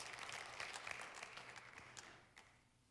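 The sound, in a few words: congregation applause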